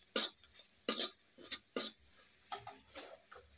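Spices and salt being stirred into frying food in a pan for a savoury snack made from kneaded dough, with several distinct scraping strokes of a spoon, close and moderately loud, separated by short pauses.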